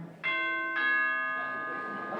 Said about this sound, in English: Or perhaps the sound of a doorbell.